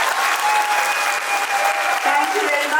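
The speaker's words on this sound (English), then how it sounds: "So, a wonderful, one last round of applause for these amazing children." Audience applauding children after a musical stage performance of the Ramayana, a dense, steady round of clapping filling the room for about three seconds, with faint voices mixed in.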